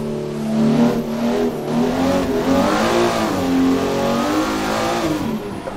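A Nissan S15 drift car's engine revs hard on and off the throttle at Bikernieki track, close and loud, its pitch rising and dipping in repeated sweeps with no voices over it.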